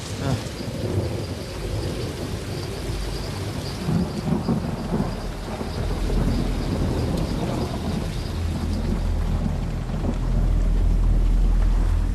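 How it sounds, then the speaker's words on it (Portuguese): Heavy rain and wind with rumbling thunder building into a deep, loud roll near the end, sustained and close. "havia alguns trechos com chuva e, de repente, essa tempestade."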